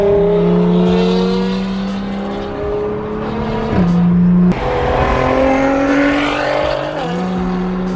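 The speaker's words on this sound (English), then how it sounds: "that was just a downpipe, no tune yet, and it's already popping." A 2020 Toyota Supra with only a downpipe and no tune revs hard and loud up close, rising in pitch through several pulls with sharp pops and crackles between shifts.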